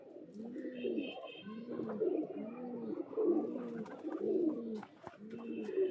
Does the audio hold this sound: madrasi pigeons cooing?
yes